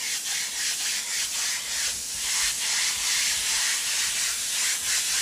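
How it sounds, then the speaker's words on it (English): An airbrush mists paint over a portrait on a black shirt, giving a steady close airy hiss with soft pulsing as the spray is worked back and forth, with no talk. "you just basically wanna mist on top of it to create that real subtle"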